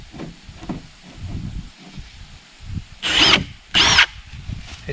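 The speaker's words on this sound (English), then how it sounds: "So I'm going to drill the other pilot holes." A cordless drill whines in two short bursts while boring pilot holes during an electric meter plug installation, each burst about a second long and loud and close, between quieter handling and shuffling sounds.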